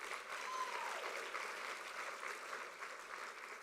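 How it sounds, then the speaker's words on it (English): Sustained applause from an audience at a presidential keynote address: a steady, dense round of clapping that fills the hall, holding at an even level throughout with no voices over it. "So let us give them too a round of applause."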